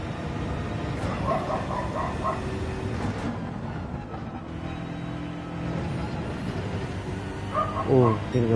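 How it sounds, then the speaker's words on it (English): A dog barks in short bursts, a cluster early on and another near the end, mixed in with steady racing car engine noise from Gran Turismo 7 during a race, with a voice talking over it. "I don't know if you can hear the dog barking."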